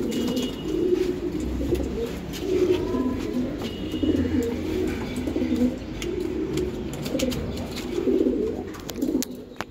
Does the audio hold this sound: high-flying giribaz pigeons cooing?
yes